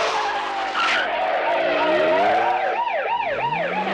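A car skids loudly during a chase in the 1982 film Rambo, with tires squealing in long wavering wails that turn into rapid up-and-down swoops toward the end, close and dominant over a rumbling engine.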